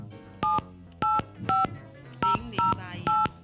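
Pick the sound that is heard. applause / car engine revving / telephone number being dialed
telephone number being dialed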